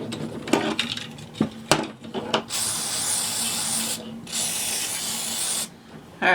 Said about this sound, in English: Now to clean it up, just going to use some WD-40 on it.